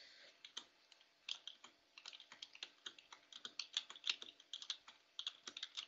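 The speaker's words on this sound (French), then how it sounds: "je m'amuse un peu avec mon clavier parce que je trouve ça drôle. Ça fait genre tout plein de bruit" Rapid, uneven clatter of keys on a computer keyboard during a SkyBlock game session, close up and continuous, with no voices.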